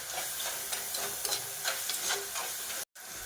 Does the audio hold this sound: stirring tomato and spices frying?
yes